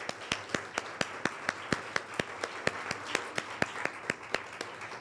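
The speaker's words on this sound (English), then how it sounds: "another round of applause for our wonderful panelists as well as the moderator" Audience clapping at a women's leadership summit after the panel, heard as a steady, evenly spaced series of sharp claps, fairly faint and close, more like one or a few people than a full crowd.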